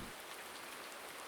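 Steady rain in the farming simulation game Farming Simulator 19, a soft, even hiss of drops pattering on surfaces, continuous and quiet with no voices.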